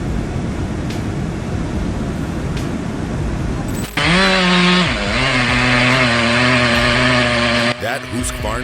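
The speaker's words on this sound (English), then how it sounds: "That Husqvarna 395 XP is a fine tool, no doubt." Husqvarna 395 XP chainsaw cutting through a big stump, starting loud and close after a stretch of rumbling background noise and running at steady high revs to the end.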